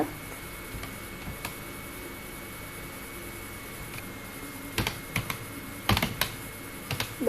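Irregular key clicks from a computer keyboard during document work in MS Word, coming in scattered bursts, quiet and close, over a faint steady hiss.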